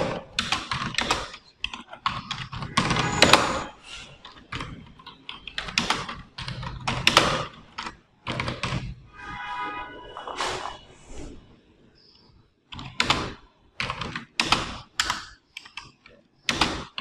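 Typing on a computer keyboard in bursts of rapid clicking keystrokes, close and fairly clear, with short pauses between runs and faint speech occasionally in the background.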